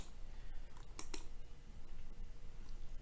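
A couple of crisp computer mouse clicks over faint background noise, quick and close.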